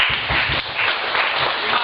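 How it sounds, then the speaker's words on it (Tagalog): Crowd of people clapping together, a dense, steady burst of applause close by with rhythmic low thumps underneath and little talk. "Palakpak na naman yan."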